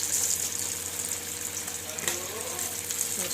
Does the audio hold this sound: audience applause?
no